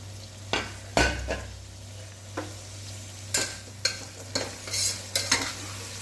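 Onions with carrots, beans and potatoes stir-fried in a pan for vegetable biryani, a spatula scraping in sharp separate strokes over a steady low sizzle and hum, close and fairly loud with no talk.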